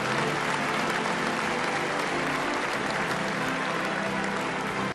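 A Miss World 1976 pageant audience applauds steadily for several seconds, a dense, even wash of clapping that stops abruptly at the end.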